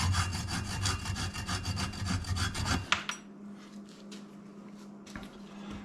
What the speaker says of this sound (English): using a nut to chase the threads